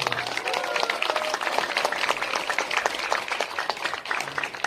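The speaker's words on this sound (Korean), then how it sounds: "큰 박수 부탁드립니다" Applause from the audience at a sold-out film premiere screening at CGV Yongsan in Seoul for the director, steady, dense clapping across the whole stretch with a faint voice briefly underneath.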